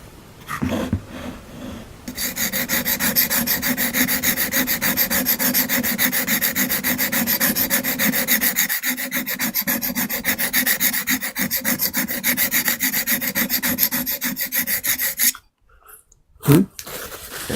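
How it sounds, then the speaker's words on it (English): A blade is sharpened by rubbing it against a sharpening surface, giving a close, continuous rasping scrape that runs steadily for about thirteen seconds, then stops briefly before a short final rub. "Ooh, that sharpening sounds nice."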